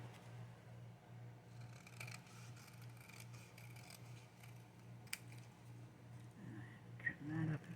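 Faint snips and rasping cuts of scissors trimming paper for a journal, quiet and intermittent over a low steady hum, with a few sharper clicks near the end.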